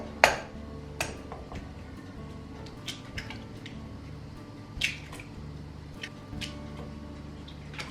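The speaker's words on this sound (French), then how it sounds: "on va casser les 3 œufs dedans" Three eggs are cracked into a bowl for chocolate muffins. Sharp taps on the bowl's rim are spaced out with small wet drips and squishes between them, all close and fairly quiet.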